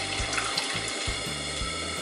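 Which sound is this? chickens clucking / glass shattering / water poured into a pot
water poured into a pot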